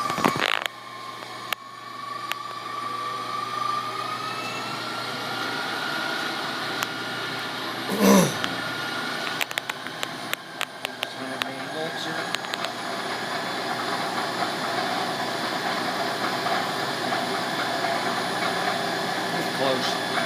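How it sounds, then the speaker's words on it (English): A 7 HP 180-volt electric motor runs up to speed, a steady mechanical hum with a rising whine and scattered clicks and creaks, loud and close throughout. "he's going to bring this motor up, this system up on that side to 180 volts"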